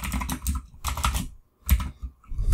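Quick bursts of typing on a computer keyboard while writing code, keys clattering in fast clusters separated by short pauses.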